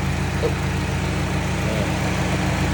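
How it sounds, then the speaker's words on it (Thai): A 2007 Honda City with an automatic transmission idles smoothly, giving a steady, even low hum with no misses, close by and fairly quiet. "เครื่องยนต์เดินเรียบนะครับ"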